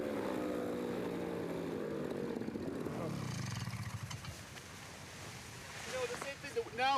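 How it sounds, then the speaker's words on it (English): An engine strains while trying to take off toward desert dunes. Its loud, steady drone drops in pitch partway through and settles into a weaker, rougher hum mixed with wind noise. "the engine has less power than when we were standing still"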